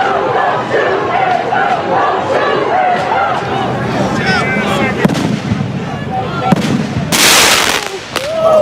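Rubber bullets are fired at a street protest, heard as sharp pops and bangs cutting through a loud, shouting crowd, with a burst of noise toward the end.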